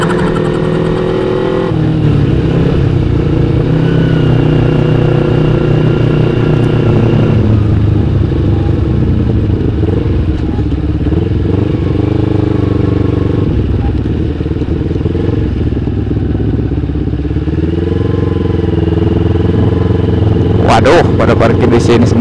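A carbureted Kawasaki Ninja 250 motorcycle engine drones loudly and close, revving and shifting pitch as it rides in traffic, with a Red Bison motorcycle overtaking, other vehicles passing and a voice talking over it.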